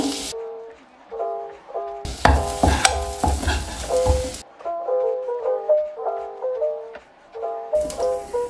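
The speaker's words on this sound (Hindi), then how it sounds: "जैसे बटर मेल्ट हो जाए इसमें 3 चम्मच मैदा," A spoon stirs flour into melted butter sizzling in a kadhai, with a burst of loud frying hiss in the middle and soft stirring scrapes under background music.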